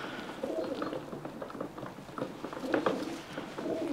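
A breeding pigeon coos close by in a loft, its low throaty calls repeating over soft feather rustles and patter, with no talk.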